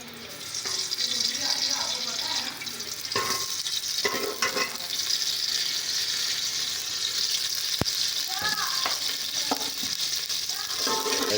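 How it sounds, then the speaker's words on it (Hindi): Oil sizzling and hissing steadily in a hot pan while macaroni is being cooked, with stirring clinks and scrapes scattered through a continuous frying noise. "तो सबसे पहले इसमें कुकिंग ऑयल डालते हैं।"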